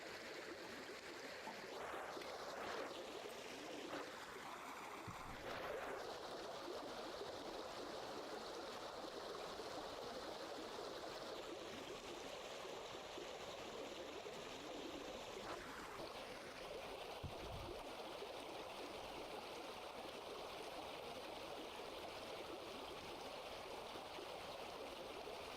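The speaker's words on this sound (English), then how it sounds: "That water wheel is so loud." In the game Vintage Story, a water wheel turns in flowing water, producing a continuous, faint rushing and trickling wash of water that stays steady throughout with no talk.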